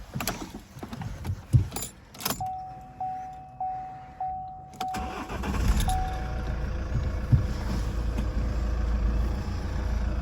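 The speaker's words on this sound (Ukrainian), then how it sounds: "Одразу давайте заведемо автомобіль" Keys jingle, a series of evenly spaced electronic chimes sound, then an Opel Insignia engine cranks and catches, settling into a steady low idle nearby.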